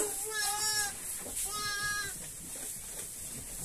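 Newborn lambs bleating among a flock of sheep, two wavering, nasal cries in quick succession over a busy barn background, with faint rustling and a voice murmuring at a distance.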